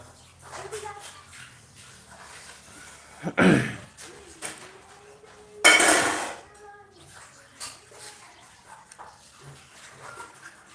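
Pots, pans and dishes clatter in a home kitchen during cooking, with two sharp loud clanks standing out among lighter scattered knocks, while people keep talking throughout.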